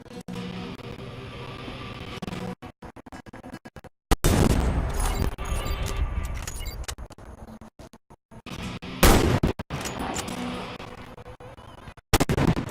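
Sniper rifle shots fired at targets in the video game Warface, sharp loud cracks spaced several seconds apart with booming tails between quieter gameplay noise.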